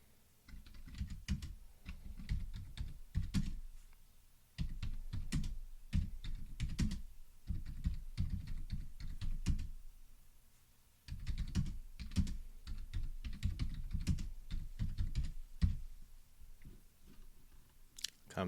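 Typing on a computer keyboard in rapid bursts of close, crisp key clicks with brief pauses between runs, continuing steadily with no talk.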